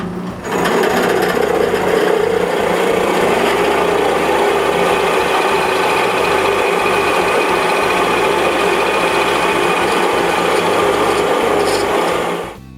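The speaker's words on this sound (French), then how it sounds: "Après les avoir vérifiés, je peux percer les trous." Holes being drilled into wood for small benches, a steady loud whirring and grinding that runs continuously for about twelve seconds, close by and alone with no talking.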